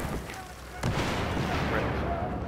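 Grenade blast in Battlefield 4 on the Operation Metro map: one sharp, loud burst lands near the start and a dense rumbling roar lingers behind it, with a voice talking over the action.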